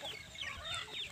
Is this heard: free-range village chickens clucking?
yes